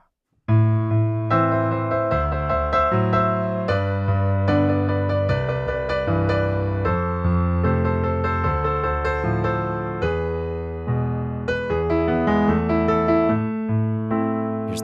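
A piano plays a steady, flowing accompaniment of chords and melody from a song, moderately loud and continuous, with no voices.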